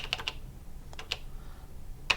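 Computer keyboard keys are tapped in short, quiet bursts: a couple of quick clicks, a pause, another small cluster, then a final sharper tap, with no talking.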